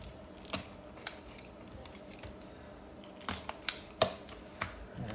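Scissors snipping through tape on the edge of a Nintendo Power magazine's packaging, a few sharp isolated cuts and clicks spaced irregularly over quiet room noise.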